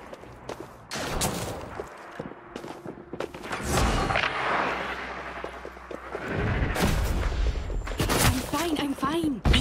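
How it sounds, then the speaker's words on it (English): Gunfire in the online shooter game Hyper Scape: several sharp, loud broadband shots and bursts crack out in quick clusters across the clip, with players talking over the fighting. "Who's shooting?"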